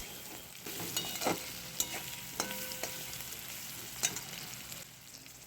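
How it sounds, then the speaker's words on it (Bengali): Ginger stir-fried with salt and turmeric in hot oil, a steady close sizzle broken by irregular scrapes and taps of a spoon against the pan, with no voices. "হালকা একটু নেড়েচেড়ে ভেজে নেব যাতে আদার গন্ধটা তেলের সাথে ভালোভাবে মিশে যায়"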